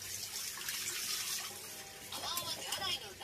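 A tap runs at a sink during handwashing, a steady hiss of flowing water with splashes near the end, while people talk softly over it.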